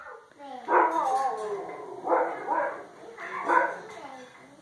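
A cockatoo mimics a dog's bark with three loud, nearby, throaty bark-like calls, each a quick cluster of yelps with short pauses between them.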